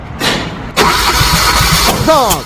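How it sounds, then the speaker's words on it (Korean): A car engine cranks during a compression pressure test: a short burst of starter turning, then a longer steady churning crank close to the microphone, ending in a brief whirring chirp. "이 게이지를 가지고 엔진을 크랭킹을 해서 정상적으로 압축 압력이 형성되는지 안 되는지를 지금부터 테스트를 한번 해볼게요"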